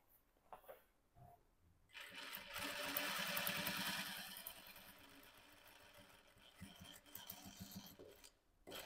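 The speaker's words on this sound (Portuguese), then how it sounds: "Cheguei aqui no centro, vou costurar aqui, ó, subindo o Vzinho aqui, ó." A domestic sewing machine stitches a Halloween patchwork quilt, a steady rapid mechanical whir that swells into a sustained run then eases into slower bursts, close and clear with no talking over it.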